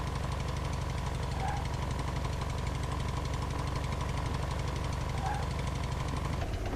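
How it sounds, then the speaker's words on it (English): A four-wheel drive vehicle's engine in the survival game Outbreak Island chugs with a rapid, rough, even pulsing like a poorly running two-stroke, loud and steady throughout. "Four-wheel drive sounds like it's running a 2-stroke engine."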